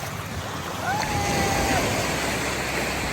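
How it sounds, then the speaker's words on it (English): Small ocean waves washing onto a Costa Rica beach, a steady broad wash of surf with wind noise on the microphone, slightly swelling midway, with a faint distant tonal sound briefly over it. "The waves are very, very small, great for our little baby."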